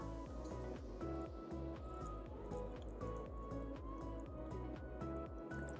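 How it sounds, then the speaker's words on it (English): Faint, close bubbling of fermenting hot sauce, small pops and drips repeating in a steady, quick rhythm. "You see the bubbling going on?"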